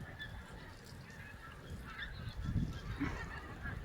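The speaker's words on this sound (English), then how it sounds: "how often do we hear geese in December?" Geese honk a few times in December during a sudden winter storm in England, faint and distant over steady wind and rumbling background noise.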